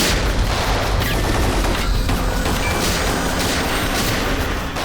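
Pistol gunfire in a TV crime thriller shootout set in a jungle, a dense, continuous barrage of loud shots and booms filling the whole stretch without pause.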